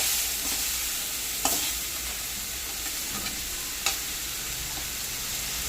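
Chutney ingredients for pudalangai (snake gourd) chutney sauté in a pan over low heat, a steady soft sizzle with a couple of sharp spatula scrapes standing out.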